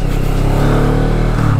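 A motorcycle engine accelerates while being ridden on a closed road in Estonia, a steady, loud, close-up drone with rising harmonic pitch, then a brief shift near the end.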